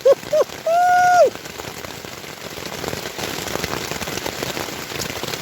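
Steady rain patters on a surface throughout, preceded by a few short rising whistle-like tones at the start.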